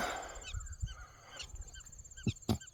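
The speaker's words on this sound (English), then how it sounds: "I'm listening to all those prairie dogs chirping." Sharp, high-pitched chirps and barks sound from prairie dogs at some distance, several calls spread out, over a faint background hum.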